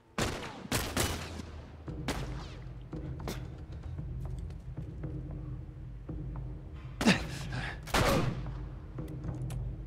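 Video game gunfire in The Last of Us Remastered: sharp shots crack out in scattered bursts, with a loud double volley near the end, all over a steady low ambient rumble.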